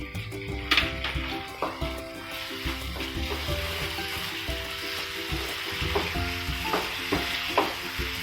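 Prawns sautéing in a spicy Agri-style masala with salt, a steady sizzle in the pan under repeated clinks and scrapes of a spoon against the vessel, close and busy throughout.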